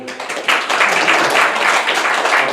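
A church congregation bursts into dense, steady applause after a quiet opening. The clapping is loud and close, fills the room and carries on without talk above it.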